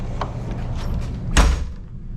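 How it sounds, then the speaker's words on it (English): Door of a Cedar Creek Champagne 38EFK RV being shut, one solid close thud against a steady low hum of the interior, with no talking. "Let me spin around and shut the door"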